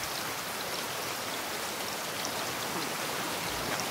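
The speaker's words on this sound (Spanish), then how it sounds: "que se nos pone a llover" Rain falls in the survival video game Raft: a steady, dense hiss of rainfall that stays even and fairly quiet throughout, with no other sounds.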